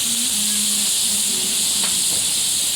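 Diced beefsteak tomatoes sizzling on a hot Blackstone griddle while cooking paella, a loud, steady, close hiss that continues without a break.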